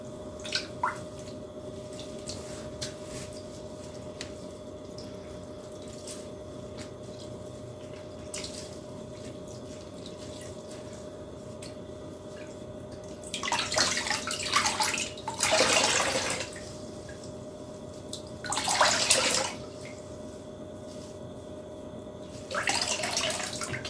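Water sloshing and dripping in a basin while hand-dyed yarn is soaked for wet blocking, quiet intermittent splashes and squishes in bursts near the end over a steady background hum.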